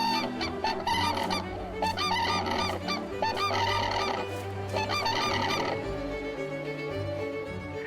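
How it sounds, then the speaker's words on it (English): Male common cranes call to their partners with loud, piercing, honking cries that repeat and get answered, set against a steady bed of background music. "Male common cranes call to their partners, their beaks pointed skywards for maximum projection"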